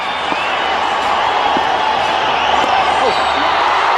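A Test cricket crowd in Bengaluru cheers Irfan Pathan reaching his first Test fifty against Australia, a steady, broad roar of distant spectators that holds through the whole stretch.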